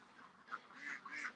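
Ducks quacking softly in the dark, a few short faint nasal calls spaced through a quiet moment.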